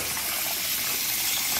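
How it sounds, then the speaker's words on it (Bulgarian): Steady rushing stream of water poured into a pot for boiling eggs, a continuous bright gushing splash heard alone and up close. "Така, още малко вода."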